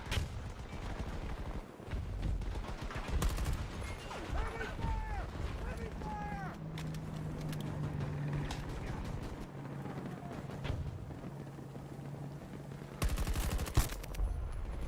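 Gunfire in the shooter game Battlefield 2042, with scattered bursts and single shots, some distant and some closer, mixed with game ambience and a steady low engine hum, plus a sharp burst near the end.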